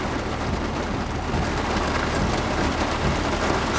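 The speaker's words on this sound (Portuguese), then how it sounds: "tá muita chuva, rapaziada" Heavy rainstorm pouring steadily outside a car, a dense, loud wash of rain drumming with a low rumble throughout, no voices.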